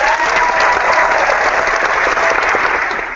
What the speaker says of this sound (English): she gets 2 rounds of applause